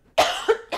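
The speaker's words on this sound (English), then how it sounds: "yes, I still have that cough." A lingering cough at close range: a loud sharp burst, a second weaker cough, then the start of a third, with no talk.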